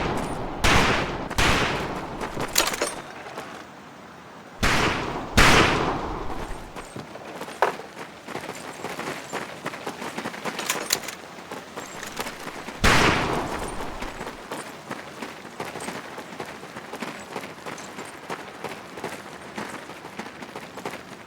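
Rifle fire rings out on a training shooting range in the video game Medal of Honor Pacific Assault. Sharp shots come in irregular volleys, several cracks close together, then separate single shots spread across the stretch. Gaps of quieter background sit between the volleys.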